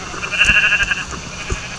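A sheep in a video game gives a short bleat and then a second, quick and close, as a voice speaks faintly underneath.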